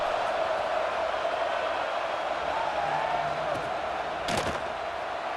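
A steady stadium crowd roar fills a college football broadcast in EA Sports College Football 26, a constant wash of murmuring fans with a brief louder burst near the end.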